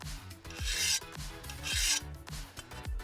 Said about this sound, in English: Just sort of run the file over the edge there a little bit.